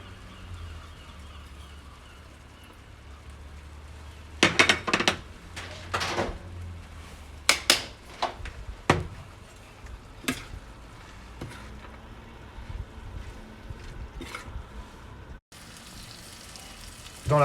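Frozen peas are stirred in a tajine pot, with a quiet sizzle underneath and a burst of sharp scraping and clattering from the utensil against the pot.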